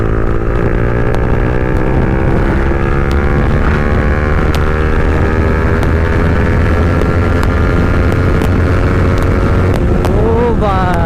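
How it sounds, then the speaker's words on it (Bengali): A motorcycle engine running and revving hard during a road ride with a super bike, a loud, sustained throaty drone shifting in pitch, with sharp exhaust backfire pops near the end. "এক্সজস্ট থেকে গাইস পুরো পটাকা মারছে ভাই পেছন থেকে ব্যাক ফায়ার, আর ডাউন শিফট দিলে গাইস আলাগই সাউন্ড"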